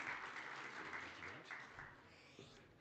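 An audience at an oil and gas conference in Namibia applauds the session moderator, a steady wash of clapping that holds at moderate level for the whole stretch.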